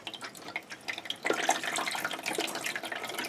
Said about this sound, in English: Now rinse off my spoon with the thiocarbamide mixture in.